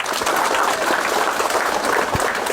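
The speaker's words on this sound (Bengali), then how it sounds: "একটা হাততালি হয়ে যাক।" A group of students clapping together to congratulate a classmate who passed in first division, a brisk, dense burst of close applause holding steady for a couple of seconds.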